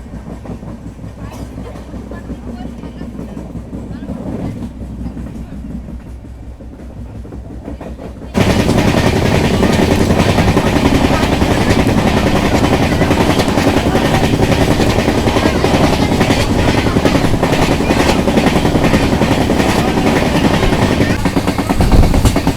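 ALCO diesel locomotive train passing on an Indian railway line, a quiet low rumble for about eight seconds before a loud, steady roar of passing wagons with rhythmic clatter takes over and holds to the end.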